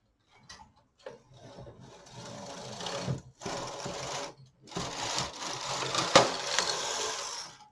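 Knitting machine carriage sliding across to knit a row, heard as several close mechanical runs with clicks and whirring, separated by brief pauses and growing louder toward the end.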